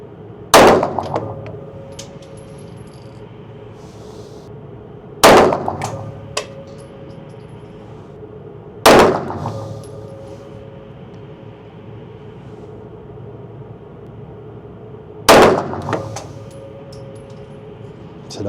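Four loud metallic clangs from pistol shots striking a steel target, spaced several seconds apart, each with a ringing decay; the handgun is a Phœnix D.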